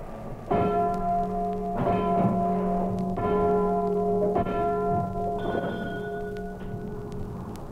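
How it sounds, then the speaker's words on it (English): On a historic steamship, the engine room telegraph rings four clear bell strikes at roughly even intervals, each with a long ringing decay, followed by a jingle, all over a steady low machinery drone. "4 bells and jingle,"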